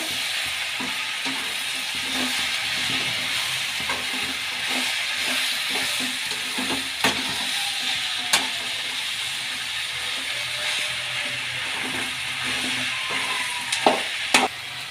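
Capsicum stirs and fries in a pan with fenugreek leaves for a potato dish, a constant sizzle under repeated utensil scrapes and a few sharp knocks against the pan.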